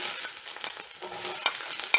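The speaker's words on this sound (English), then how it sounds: "So to my pan, I'm going to be adding in my onions." White onions frying in a pan of oil previously used to fry fish, a steady soft sizzle and crackle with a few brief louder pops and scrapes of stirring, close up with no talking.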